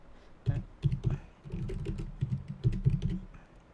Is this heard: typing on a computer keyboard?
yes